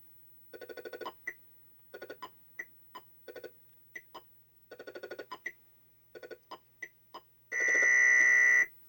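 Atari Breakout arcade machine with a repaired PCB and Paddle Master board sounding its free game award: a run of sharp electronic beeps in bursts, then a loud sustained buzzing tone at the end, heard alone.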